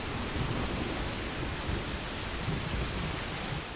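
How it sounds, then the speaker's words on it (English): Steady rain with rumbling thunder in the video game Modern Warfare 2, a continuous broad hiss of falling rain over a low, rolling thunder rumble, even and ambient without speech. "Of course, it started raining while we were inside."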